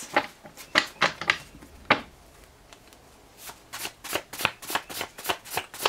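A tarot card deck is shuffled in quick riffling bursts, a cluster of crisp snaps early on, a brief pause, then a steady rhythmic run of shuffles toward the end, close and clear with no talking.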